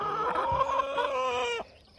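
Backyard chickens cluck close by in a flock, with a steady run of nasal, tonal calls that ends abruptly.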